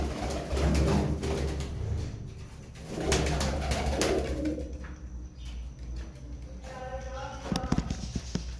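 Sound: pigeons cooing

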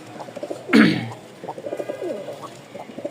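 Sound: male pigeon cooing

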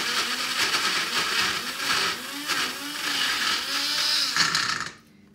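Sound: Tribest blender mixing a smoothie

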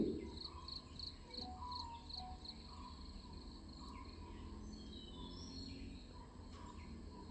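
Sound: birds and insects calling outdoors

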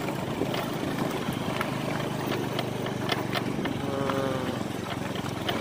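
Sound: motorcycle riding on offroad track

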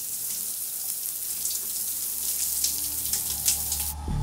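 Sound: water running from a tap

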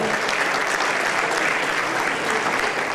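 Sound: applause for MX1 motocross riders

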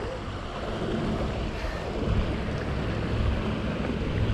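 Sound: wind blowing by river

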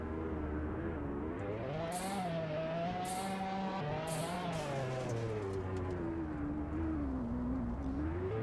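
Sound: Lamborghini Aventador car in Roblox Drive-Shaft video game

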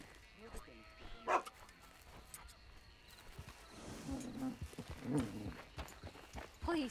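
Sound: dog barking in Red Dead Redemption II video game

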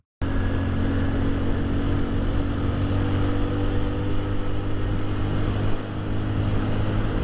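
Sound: new 2024 model motorbike engine sound

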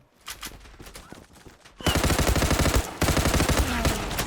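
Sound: pump shotgun gunfire in the video game Zula

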